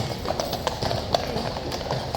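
A very large Household Cavalry horse of the Blues and Royals clip-clops at Horse Guards in London, steady hoofbeats ringing on hard ground close by, with faint voices in the background.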